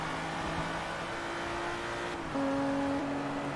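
A Lamborghini engine in the racing game Forza Motorsport 3 hums steadily, then its pitch jumps higher as it revs, a smooth sustained drone.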